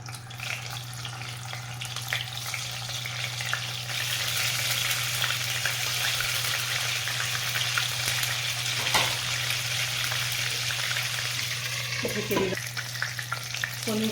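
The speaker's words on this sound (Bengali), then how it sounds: "এখানে আমি কটা পনির ফ্রাই করে নেব" Paneer pieces frying in hot white oil in a kadai, a continuous close sizzle and bubbling that stays loud and steady throughout, with a few brief clinks of a utensil near the end.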